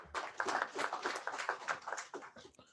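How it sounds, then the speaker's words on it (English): A short burst of clapping from an audience at an annual general meeting, fairly faint and choppy, with a few voices mixed in before it trails off. "so another round of applause for my friend John."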